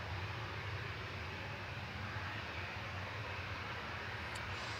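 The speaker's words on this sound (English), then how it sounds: "this plane has just fired up its engines" TUI Boeing 737-800 airliner at Manchester Airport with its engines running, a steady broadband roar and low rumble holding level throughout, fairly loud and continuous with no voices.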